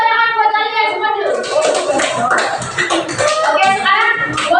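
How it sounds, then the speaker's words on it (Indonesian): Children clapping together in a classroom, a dense burst of applause mixed with young voices and chatter throughout, loud and close. "Sekarang tepuk tangan buat kalian semua dulu."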